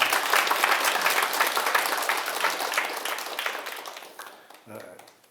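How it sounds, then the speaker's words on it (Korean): Audience applause at a Buddhist dharma talk, a broad dense burst of clapping from a large crowd that gradually thins and fades, with a brief voice near the end. "이분을 위해서 큰 박수 부탁드립니다."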